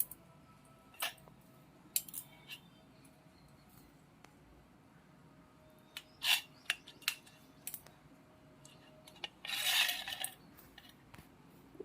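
A knife cuts paneer into small pieces, giving faint scattered taps and clicks against the cutting surface, close and quiet with short pauses between strokes.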